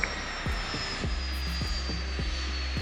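Cessna Citation Excel 560XL business jet engine noise at DVT airport, a steady broad roar with a high whine, heard alone with repeated low thumps over just under three seconds.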